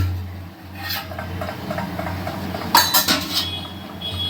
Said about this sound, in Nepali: म अब यसलाई सानो भाँडामा सार्नेवाला छु है।